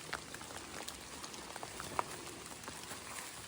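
Rain falling on a hiking trail in the Appalachian backcountry near Standing Bear, a faint soft patter of scattered drops on surfaces, steady and quiet with no talk.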